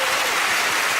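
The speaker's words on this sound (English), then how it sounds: "A jolly, encouraging and patronising round of applause to you" A studio audience at a television quiz show breaks into a brief, dense burst of clapping, close and sustained for about a second, with no voice over it.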